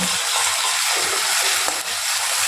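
Onion fries with garlic and ginger paste in a pan, a loud, steady hiss of sizzling oil that runs close and continuous throughout.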